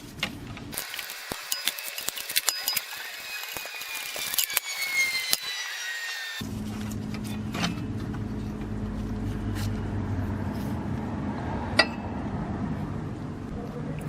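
Removing a power wire and 10mm bolts on a Bobcat MT50 Kubota D722 engine during a head gasket job, with clicking ratchet strokes and metallic tool taps up close, followed by a steadier mechanical background.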